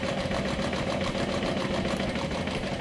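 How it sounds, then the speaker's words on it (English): A sewing machine stitches a curve on a woven cork backpack, a steady close mechanical hum with a fast, even needle rhythm and no pauses. "Go slow, make sure there's no puckers when you sew this curve."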